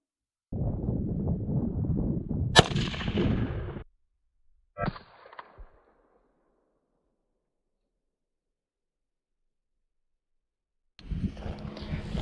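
A 5.56 rifle fires 77 grain Hornady rounds at melons 100 yards away outdoors: a couple of sharp, loud cracks ring out amid heavy wind rumble, then a long silence before more gusty noise.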